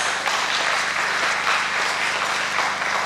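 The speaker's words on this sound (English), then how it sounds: "Can we give them another round of applause?" Loud, continuous applause from an audience after a dance performance at an Australia Day and Indian Republic Day community celebration, a thick, even roar of clapping with a faint low hum beneath.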